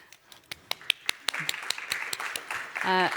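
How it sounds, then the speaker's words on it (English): Audience applause at the close of a European ocean science forum session, scattered claps building into steady clapping, with a voice briefly heard near the end. "Applause."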